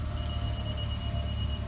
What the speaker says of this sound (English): It's beeping at me because it thinks the factory key fob right here is not present